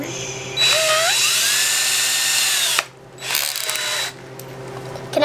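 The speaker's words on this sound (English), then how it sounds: "If we drill the rock" A power drill whines into a rock with a high, steady grinding buzz, running in two long bursts separated by a short pause, close and loud.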